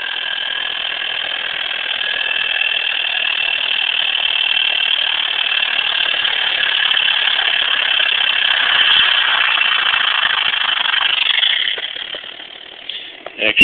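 A WhiPMag II magnetic generator spins with a steady, loud, high whine that holds for about eleven seconds, then drops and wavers as it slows toward resonance.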